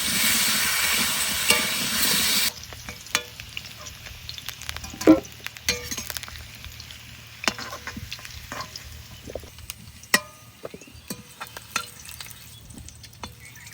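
Potatoes frying with a little salt in oil already used for frying fish: a loud, dense sizzle at first that drops to a quieter crackle with scattered stirring clinks and pops.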